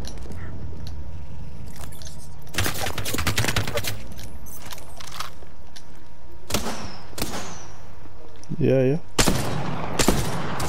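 Several bursts of Apex Legends gunfire ring out in quick rapid clusters, each sharp and loud, with a gap between bursts and a short metallic sweep near the end. A voice speaks briefly among the shots.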